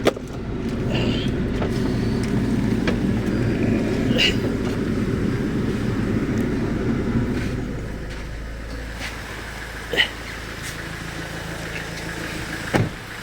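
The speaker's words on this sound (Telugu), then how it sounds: "ఇప్పుడు నేను బానెట్ లేపి మీకు ఇంజన్ సౌండ్ అది చూపిస్తాను మీకు" A car engine idles steadily with the bonnet raised, a low continuous rumble close by that softens after several seconds, with a couple of brief clicks near the end.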